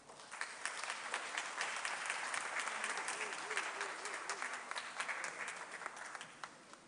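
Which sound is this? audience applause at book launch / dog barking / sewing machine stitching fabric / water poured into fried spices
audience applause at book launch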